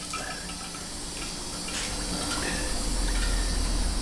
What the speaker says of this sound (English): And the water starts coming up, bubbling up into the table like that.